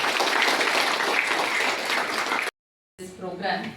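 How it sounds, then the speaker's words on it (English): An audience at a community program bursts into sustained applause, loud and thick for a couple of seconds before it cuts off abruptly; after a short silence, a voice begins talking. "Let's give you a shout of applause"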